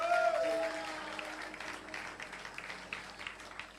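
Church congregation applauding during a worship service, a steady wash of clapping that fades slightly after the opening, with a brief tone at the start.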